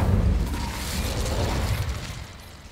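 Hogwarts Legacy's Incendio fire spell bursts out with a loud whooshing blast. The roar of flame fades gradually over about three seconds, with no voices over it.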